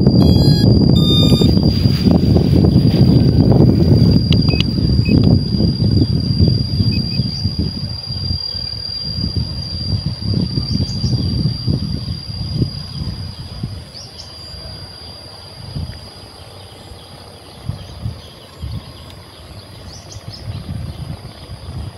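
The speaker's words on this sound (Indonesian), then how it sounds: "Sebelum itu kita hidupkan dulu drone-nya" An SJRC F11 Pro 4K drone powers up with a few quick beeps, then its propellers spin into a steady high whine and loud whooshing rush that fades somewhat over twenty seconds, with no talking.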